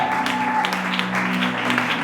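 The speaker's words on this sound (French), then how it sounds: "Est-ce que nous pouvons acclamer très fort le roi des gloires?" Congregation in a church cheering and clapping for Jesus, a full continuous roar of applause and shouting layered over sustained keyboard tones, loud and close.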